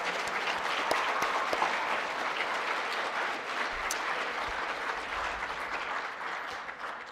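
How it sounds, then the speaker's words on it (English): An assembly audience of students and families gives sustained applause for graduating seniors of a state track team, a dense steady patter of many hands clapping throughout with no pauses. "So can we give our seniors a round of applause for all they've done?"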